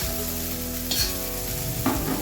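Kolmi (water spinach) greens fry in a pan with a steady close sizzle, broken by a couple of scraping stirs; no one speaks.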